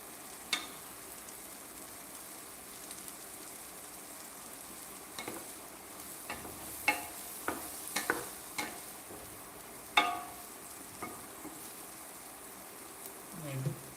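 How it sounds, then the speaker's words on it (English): Vegetables being stirred while they fry in a pan for a chicken Alfredo dish, with scattered sharp scrapes and clicks over a steady soft sizzle, fairly quiet and close. "Vegetables need a little bit of salt. Stir it around."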